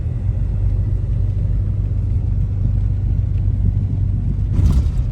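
Low, steady engine rumble from a vehicle hauling a combine and a trailer house north on the road during wheat harvest, close and continuous, with a brief hiss near the end.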